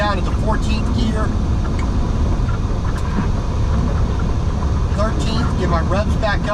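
A truck on Interstate 81 downshifted into 14th gear on a downhill grade, producing a loud, steady, close cab drone mixed with road rumble that holds without a break throughout.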